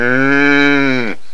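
One loud, close cow moo with a long, steady drawn-out tone that drops off sharply at the end.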